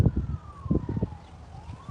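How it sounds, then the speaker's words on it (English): A wailing emergency vehicle siren sweeps slowly up and down in a storm-damaged city after a tornado, moderately distant, over wind and low rumbling noise. "Sirens and ambulance are everywhere."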